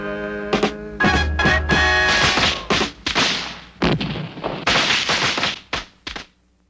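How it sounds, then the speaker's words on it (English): Fireworks burst in a rapid string of loud, sharp thumps and crackling pops over a musical backing, then cut off abruptly. "fireworks."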